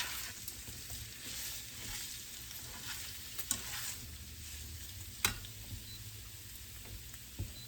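Potatoes frying in vegetable oil in a hot pan give a steady, close sizzle throughout, broken by a few sharp clicks and scrapes from stirring.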